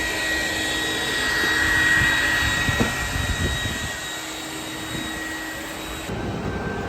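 A powerful industrial vacuum cleaner drones steadily with a high whine over a rushing roar, running continuously at close range.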